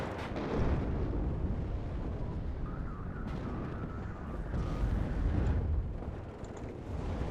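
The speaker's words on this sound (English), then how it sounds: "I just dropped some HE bombs by their command, taking out one of their vehicles." High-explosive bombs burst across a battlefield in the WARNO strategy game, a rumbling series of deep booms and rolling blasts at moderate distance, swelling twice, with no voices.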